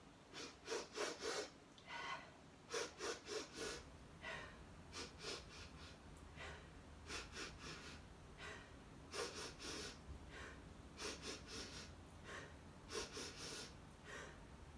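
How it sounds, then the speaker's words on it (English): Quick breaths from a children's yoga session, done kneeling: repeated bursts of three sharp inhales then an exhale, close and loud, cycling over and over with short pauses between sets. "it's 3 quick breaths in and then out"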